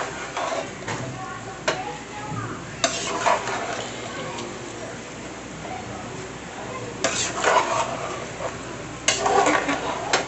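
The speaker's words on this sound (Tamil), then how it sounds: "அரிசி போட்டு ஒரு கிண்டி கிண்டுங்க." Rice being stirred into a pot of chicken biryani, bursts of scraping and clanking from a utensil against the vessel, recurring several times with talk in between.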